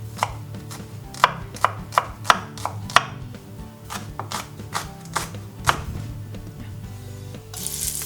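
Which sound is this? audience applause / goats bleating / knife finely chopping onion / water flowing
knife finely chopping onion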